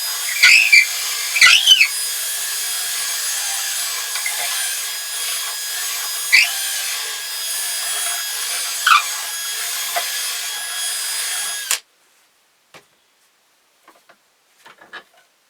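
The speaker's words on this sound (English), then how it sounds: "I'll just bore it out a little bit more so our string doesn't catch on the sides or anything." A power drill bores out a hole in a wooden ventriloquist dummy figure, a continuous grinding, rubbing whir of bit in wood for about twelve seconds, then stopping abruptly into near silence with a few faint clicks.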